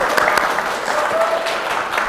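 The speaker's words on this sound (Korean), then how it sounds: "이 앞 시간에 강연 멋지게 해주신 우리 디자이너님께 다시 한 번 더 여러분들 큰 박수 부탁드릴게요." A crowd at a Seoul fashion conference claps steadily for a designer after her talk, a dense, even patter of applause filling the hall with no pauses.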